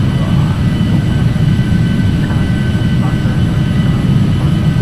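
The Carenado Hawker 850XP's jet engines in a flight simulator: a loud, steady, low-heavy turbine drone holds without change from start to finish.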